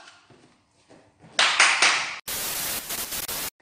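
Applause from a group at a wrestling and mixed martial arts training session, a quieter burst of clapping followed by louder sustained clapping for about a second, then a dense roar of claps that cuts off abruptly.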